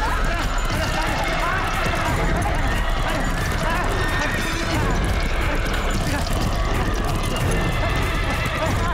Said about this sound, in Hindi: सेट पर अचानक सभी घोड़े इस तरह से क्यों भड़क गए थे?